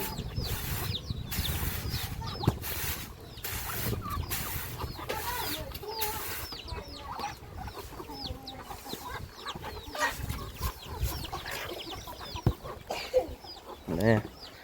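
Chickens feeding in a rural Lao village, clucking and pecking with scattered chirps and calls from several birds close by, while people talk in the background.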